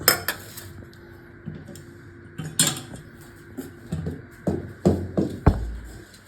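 A spoon scrapes and knocks against a pot as jaggery and flour are stirred together for athirasam, giving a series of sharp metallic clinks and taps in an irregular rhythm, close and fairly quiet, with no talking.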